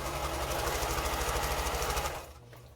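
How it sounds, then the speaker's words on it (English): A sewing machine stitches quilt pieces in a steady, fast, close mechanical whir that runs continuously and then stops near the end, leaving quieter room noise. "So now I'm going to go to the machine and sew that."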